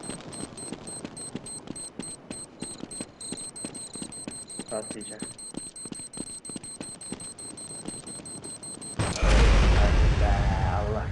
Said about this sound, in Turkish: İki kere bomba patladı bana.